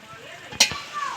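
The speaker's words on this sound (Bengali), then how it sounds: "হালকা হালকা জ্বালান দিয়ে মাংসটা আমি কষে নেব" Mutton frying in a pot on a low flame, a soft sizzle broken by one sharp scrape or stir of the spoon at the middle, close and brief with no voices.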